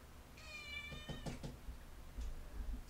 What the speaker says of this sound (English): I'm starting with the cat that pees on my shit.